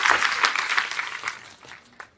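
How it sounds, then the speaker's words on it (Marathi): Audience applause at a memorial award ceremony in a hall, a broad wash of clapping that is full at first and gradually thins and fades over about two seconds. "मला वाटतं यासाठी सगळ्यात जास्त टाळ्या झाल्या पाहिजे"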